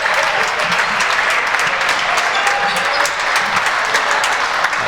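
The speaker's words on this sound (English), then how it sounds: "The crowd again applauding the YU Max." A large crowd at a college basketball game applauds steadily, loud and sustained, with clapping filling the space throughout.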